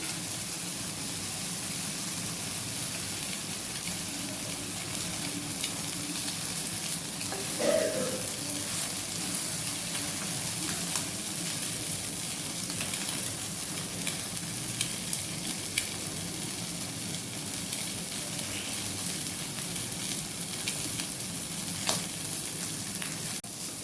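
Fish frying in hot oil gives a steady, close sizzle with crackling spatters that runs unbroken throughout, with no talking over it.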